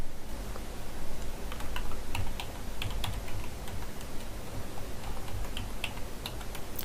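Steady, fast computer keyboard typing close to the microphone while a headline is entered in Illustrator, continuous clicking keystrokes over a constant background hiss with no speech.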